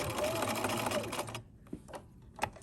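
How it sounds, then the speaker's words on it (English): A sewing machine back stitches at the end of a seam, whirring steadily and close for over a second before stopping, followed by a few small clicks and handling knocks. "I'm back stitching at the end"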